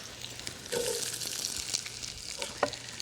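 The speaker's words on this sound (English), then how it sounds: "about 2 tablespoons of oil in the pan and get that underway. Love that sizzling sound." Two tablespoons of oil sizzle and crackle in a pan, a soft steady frying hiss with small pops, close and quiet, with no talking.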